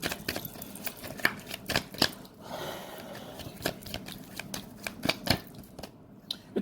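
Tarot cards riffle and snap in a rapid, close run of crisp shuffling clicks, pausing briefly midway before the quick card flicks resume, with no talking over them.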